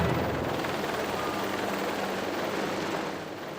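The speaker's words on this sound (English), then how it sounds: "Not to be outdone, the Apache helicopters show that they too can deliver a heart-stopping routine." Apache helicopters flying an air force air show display produce a loud, continuous, rumbling roar that stays steady throughout and fades slightly at the end.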